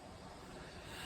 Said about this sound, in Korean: 이건 지금 밀밭 바람 소리예요.